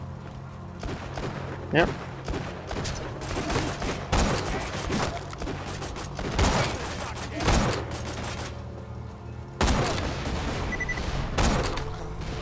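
Rapid bursts of gunfire in a shooter video game, with pistol and rifle shots cracking in repeated volleys and loud booms, while someone talks over the action.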